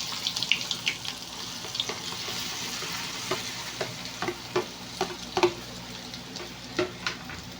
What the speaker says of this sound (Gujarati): હવે આપણે આને ધીરે રહીને મિક્સ કરી લઈશું